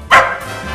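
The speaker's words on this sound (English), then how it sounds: "And his devoted dog, Dollar." A single sharp bark from a dog in a holiday family movie trailer, close and loud, quickly fading into a soft tail.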